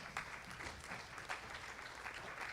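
Steady applause from an audience at a high school senior awards ceremony, many hands clapping in a continuous, faint, distant wash.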